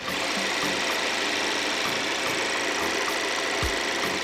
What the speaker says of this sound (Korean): 자 엔진 소리 한번 네, 들려드릴게요.